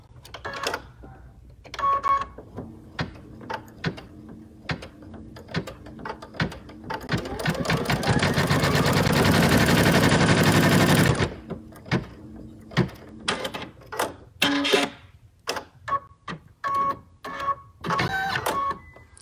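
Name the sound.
embroidery machine stitching down fabric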